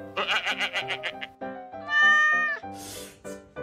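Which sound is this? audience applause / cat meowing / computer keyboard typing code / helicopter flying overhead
cat meowing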